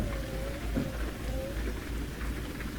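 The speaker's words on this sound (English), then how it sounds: "It's kind of a light rain" Light rain in Euro Truck Simulator 2, a steady hiss of drops on a truck cab, continuous and even throughout with a low engine rumble underneath.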